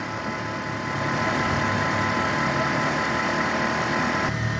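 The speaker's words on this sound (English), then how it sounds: "Okay, with the motor running." A 2012 Toyota Prius engine idles with the hood open, a steady, even mechanical hum with faint ticking, close and continuous throughout.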